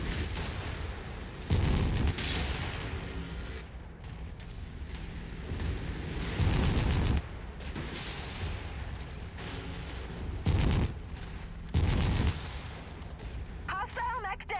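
Missiles fire and explode in a mech combat video game, with repeated loud broadband blasts landing at irregular intervals over a continuous rumble of battle noise.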